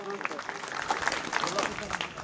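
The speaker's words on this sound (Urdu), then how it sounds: "جناب زہیب حسن صاحب, آپ کی تالیوں کی گونج میں" Audience applause at a deforestation seminar in a government high school in Mianwali, a dense burst of clapping throughout, fairly close and steady.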